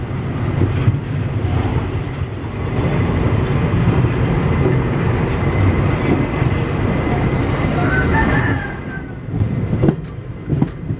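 The Circar Express pulls out behind an Erode-shed locomotive, a steady loud rumble of rolling wagons and wheels on rails lasting throughout, easing slightly near the end with a few clanks.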